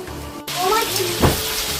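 Meat sizzling as it is sautéed in a pan, a steady hiss of frying with a brief stir-like scrape, while a voice talks over it.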